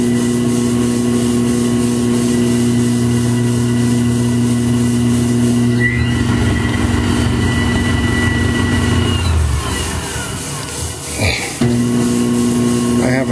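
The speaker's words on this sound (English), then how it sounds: "Variable speed on my lathe since I have a 110 volt DC motor" A lathe driven by a 110-volt DC motor with a router speed control hums steadily at high level, with a shift in tone partway through as the speed changes, and a brief dip near the end, in a clock repair shop.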